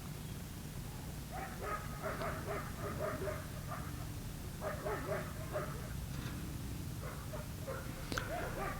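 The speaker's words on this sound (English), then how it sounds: "even in the midst of the sound of dogs barking" Several dogs bark repeatedly in an outdoor park, bursts of barking and yips coming in clusters at moderate distance over a steady background hum.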